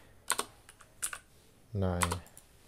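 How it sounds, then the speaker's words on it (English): A few quick keystrokes on a computer keyboard while entering a number into a spreadsheet cell, close and fairly quiet, with a short burst of speech partway through. "I'll type out 59"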